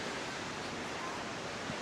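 A waterfall roars steadily along a scenic coastal mountain highway route, a dense continuous rush of falling water filling the scene at constant loudness with no breaks.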